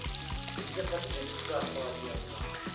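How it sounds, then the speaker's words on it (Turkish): Steady, close sizzling of spicy chicken wings frying in hot oil over medium heat, a continuous bright crackle with faint low thumps and clinks underneath. "orta ateşte her iki tarafı da altın rengi alana kadar kızartıyoruz."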